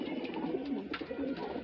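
Soft, low coos of a golden gadha pigeon from Bareilly repeat in a steady murmuring rhythm, close by, with faint rustling in the background and no talking.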